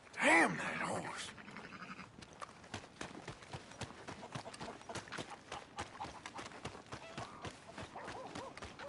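Horse hooves clip-clopping in Red Dead Redemption 2, a steady rhythmic trot of hoofbeats heard close, following a brief louder animal cry at the start, with a voice talking over parts of it.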